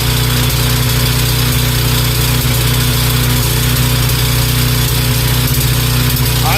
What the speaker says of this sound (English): the motor's idling pretty good actually